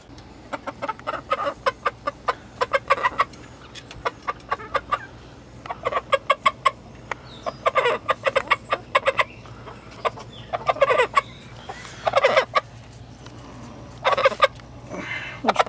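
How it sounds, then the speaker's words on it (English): Poultry calls from a crooked-beaked hen and other farmyard fowl, a busy stream of short clucks and squawks in repeated bursts, fairly close over a steady low hum, with turkey-like gobbling mixed in. "she's a sweet chicken"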